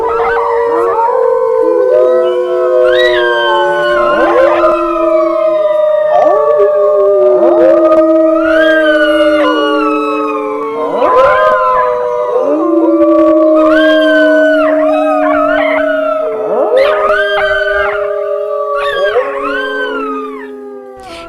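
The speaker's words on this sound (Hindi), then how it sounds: "जंगल से दूर सियारों का हुआ हुआ करके चिल्लाने की आवाजें आनी शुरू हो गई" A pack of jackals howls in chorus at night, rising and falling wails overlapping continuously, loud and sustained with repeated swooping cries.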